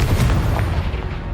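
A Confringo blasting spell explodes in the Hogwarts Legacy video game, giving one deep, booming burst that rolls and fades over about a second.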